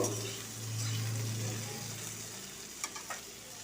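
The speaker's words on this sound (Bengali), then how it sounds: "আলুটা দেখুন ভাজাও হয়ে এসছে" Potatoes frying in oil in a wok until reddish-brown, a soft, steady sizzle up close with a few light clinks near the end.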